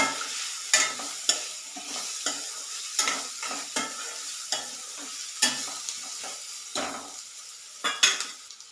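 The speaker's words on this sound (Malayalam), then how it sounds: "ഇപ്പോൾ സവാളയൊക്കെ ഒന്ന് നല്ലവണ്ണം വഴന്ന് കിട്ടിയിട്ടുണ്ട്" Onions sauté with salt in a pan, a repeated scraping and clacking of the spoon against the pan in an irregular rhythm over a light frying sizzle, close by, with no talk.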